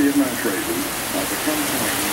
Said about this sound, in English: Here we go, more rain.